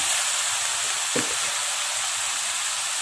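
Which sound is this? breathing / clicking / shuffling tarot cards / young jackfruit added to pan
young jackfruit added to pan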